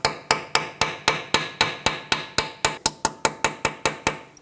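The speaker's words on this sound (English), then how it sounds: "I'm going to take a hammer and tap my socket on." Steady hammer taps on a metal socket being driven onto a corroded bolt of a 2013-2020 Nissan Pathfinder, about seventeen evenly spaced sharp strikes with ringing overtones, close and loud, no talking.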